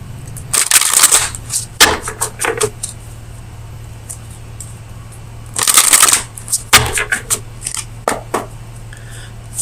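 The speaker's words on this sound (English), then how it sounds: "let me get you an oracle card from the Oracle of Visions" Oracle of Visions cards shuffle in two loud, crisp bursts of riffling and slapping, the second after a quiet pause, followed by lighter card handling.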